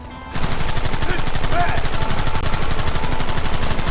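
Rapid gunfire in Red Dead Redemption erupts after a brief quiet moment, dense, loud and sustained shots firing in quick succession for the rest of the clip.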